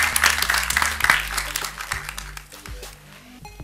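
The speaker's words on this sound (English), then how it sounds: "So a round of applause for him for all that he's achieved." Sustained audience applause at a film song launch, many hands clapping at once, loud at first and slowly thinning out.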